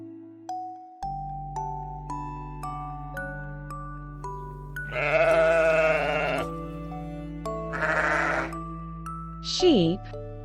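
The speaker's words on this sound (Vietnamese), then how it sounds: "Con cừu." Sheep bleating on a farm, several wavering bleats in a row over a steady musical backing with bright chime notes, loud and close, ending on a short higher bleat.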